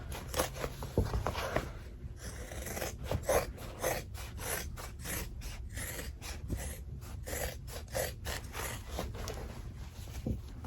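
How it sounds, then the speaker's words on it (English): Scissors cut around the edge of a fabric in-the-hoop zipper bag, giving a close run of rhythmic rasping snips that repeat at a steady pace with no speech. "And then I just cut around my bag."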